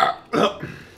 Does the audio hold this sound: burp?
yes